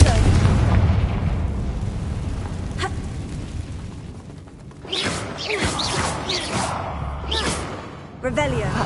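A Confringo spell explosion in Hogwarts Legacy: after a rumbling stretch, a heavy booming blast erupts with crackling debris and a second sharp impact near the end, loud and close.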